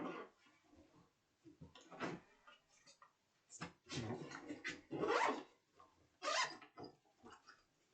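A school bag's zipper is pulled open during a search, with short scratchy zipping bursts and rustling clatter in irregular spurts, fairly close and quiet, no talking.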